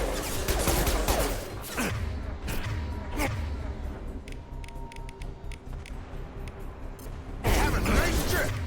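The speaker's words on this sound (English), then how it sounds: "Oh, assault rifle." Assault rifle fire in the video game Mass Effect 2 rattles in bursts of rapid shots with mechanical clicks between, some quieter gaps midway before a loud burst returns near the end.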